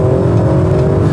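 A Sportec-tuned Audi RS4 B9 accelerates at full throttle with a loud, steady engine drone and whirring turbo. The sound is heard close up from inside the car, with no talk.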